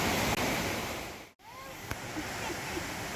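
Water rushes down a waterfall stream in a continuous close roar, briefly dipping to near silence midway before resuming steadily, with a brief faint vocal sound over it.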